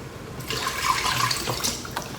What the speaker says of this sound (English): I'm gonna add a little more broth.